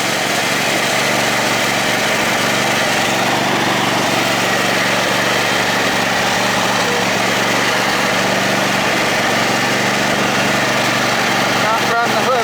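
Poulan Pro riding lawn mower engine running steadily, a loud continuous drone with vibration throughout, with a person talking over it.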